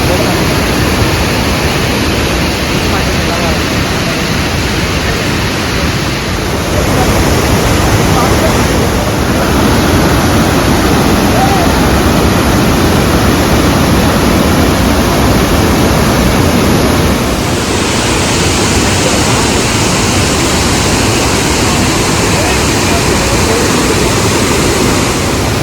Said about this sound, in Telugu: ఎలా ఉందండి మన హైదరాబాద్ దగ్గర ఉన్న వాటర్ ఫాల్?